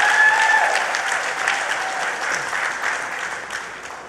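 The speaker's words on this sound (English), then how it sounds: "Let's hear a lofty round of applause for Daniel Duki, our candidate for Assistant General Secretary" A crowd applauds a candidate at a PNM party event in Chaguanas: loud, sustained, even clapping that slowly eases off toward the end.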